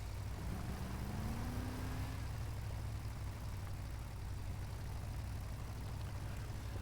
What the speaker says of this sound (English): So the engine sounds are a little weird how they rev, but whatever.